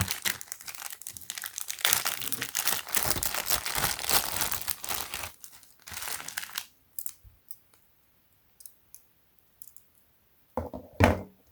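A clear plastic Ziploc bag crinkles and rustles loudly and continuously as it is handled and pulled open. Then comes a quiet stretch with a few small, sharp plastic clicks and a final crackly handling burst.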